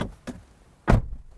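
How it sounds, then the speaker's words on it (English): A car door on a 2022 Mitsubishi Outlander 7-seater opens and shuts: a couple of light clicks from the latch, then one firm, solid thud as it closes, with no talk. "And what about your door? Open, close."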